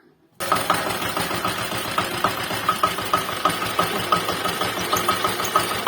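A homemade mower mounted on a walk-behind tractor starts up abruptly and runs steadily nearby, its engine clattering with a fast rhythmic knock and mechanical chatter throughout, no voices.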